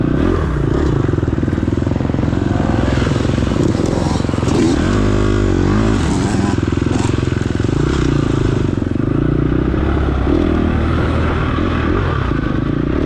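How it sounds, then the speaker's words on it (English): Dirt bike engine at an offroad race, revving in sharp bursts over a steady loud idle, with rapid rising and falling sweeps of the engine note close by, mixed with clatter and rough ground noise. "Here's some rev bombs here."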